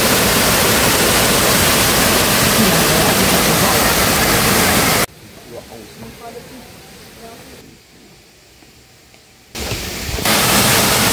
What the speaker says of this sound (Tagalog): Ayan yung waterfall.